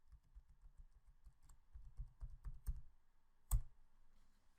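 A password is typed on a computer keyboard as a quiet run of quick key clicks, each press soft and close. A single sharper, louder keystroke near the end sounds like a final enter, and nobody speaks.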